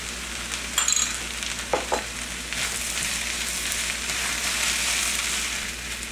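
Spiced potato samosa filling sizzles and fries in a pan while being stirred, a steady loud hiss with a few scraping stirs near the start, close up and without talk.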